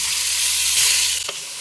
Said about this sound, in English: Go in with some tomatoes, garlic, and onions and cook till soft.